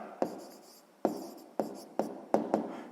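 A pen scratches out a handwritten answer on paper in several short bursts, with sharp taps between the strokes. The sound is close and quiet, and nobody speaks.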